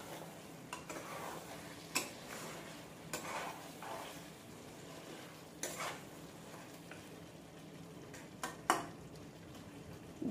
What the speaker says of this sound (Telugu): ఒకసారి కలుపుదాం.